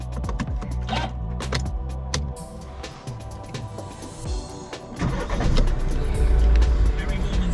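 A turbo diesel car engine cranks and starts up, the motor catching and settling into a loud, close idle while someone speaks over it.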